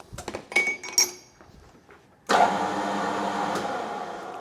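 Metal lathe with a rough cast steam roller gland follower in the chuck: a few light metallic clinks and taps, then the machine starts and settles into a steady, even whirring hum.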